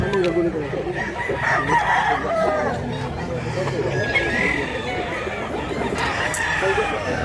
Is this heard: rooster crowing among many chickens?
yes